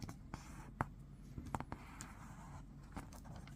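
Paper being folded and creased while making an origami penguin, soft crinkles and several sharp brief creasing snaps, close and quiet.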